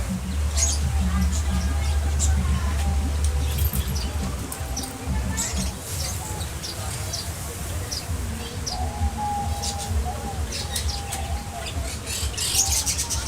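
Birds in a park aviary including diamond doves, with scattered chirps and tweets over a busy background of people talking nearby and low rumble.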